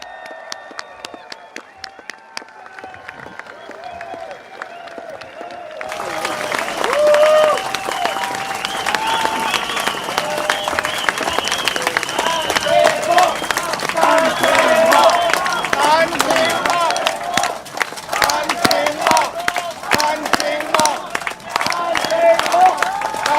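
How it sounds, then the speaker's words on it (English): A rally audience breaks into loud, sustained applause and cheering to welcome Dr. Tan Cheng Bock, the clapping starting suddenly after a few seconds of announcer speech and continuing dense and steady to the end. "Please put your hands together, ladies and gentlemen."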